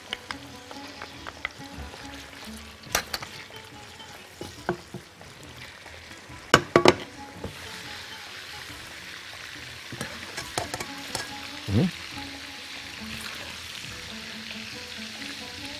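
Sausage sizzles and fries in ghee in a pan, a soft steady crackle broken by occasional sharper spatters and stirring clinks.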